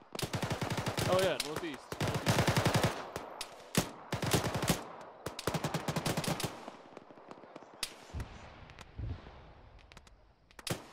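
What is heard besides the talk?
gunfire in a military video game (Arma, ShackTac)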